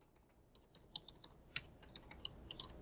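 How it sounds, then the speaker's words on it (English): Typing on a computer keyboard while logging in with a student number and password, heard as a quiet, uneven run of light key clicks with no talking. "So then you would type in, your N number here,"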